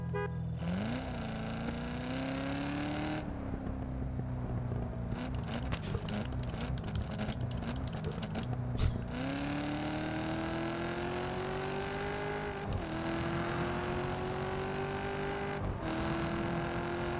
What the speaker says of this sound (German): Nochmal an. Gut, der macht jetzt nicht so einen Krach wie der Mustang beim Starten hier,